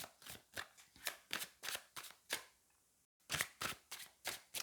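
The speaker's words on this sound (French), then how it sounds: "Je vais prendre une autre carte." Tarot cards are shuffled and handled close up in a steady series of crisp riffling, slapping bursts, about ten in all, with a brief pause before the rhythm resumes, quiet and with no talking.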